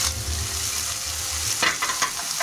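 Capsicum and tomato paste stirred into frying veg keema, a dense close sizzle with a low rumbling hum and a few spatula scrapes near the end.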